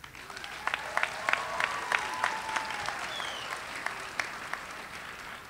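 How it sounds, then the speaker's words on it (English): Scattered, fairly faint applause from a university commencement audience honoring bachelor's degree candidates, with individual claps standing out over a soft room background and a brief voice tone. "We applaud you on your accomplishment."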